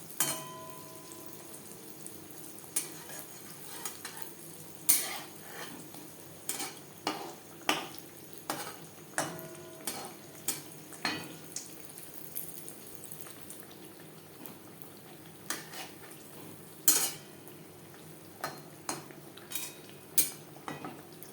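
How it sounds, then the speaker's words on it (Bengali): Jalebi made without chhana fry in a pan under a low, steady sizzle as they are turned, with frequent sharp clinks of a utensil against the pan. "এভাবে উল্টে পাল্টে সুন্দর একটা কালার আসা পর্যন্ত ভেজে নেব।"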